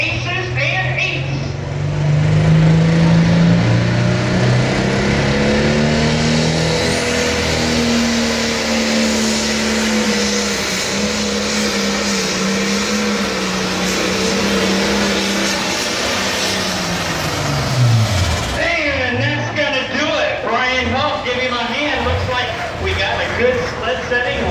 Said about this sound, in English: Brian Huff, 43 years old, International 1066. Light Pro Stock, it's called Aces and Eights.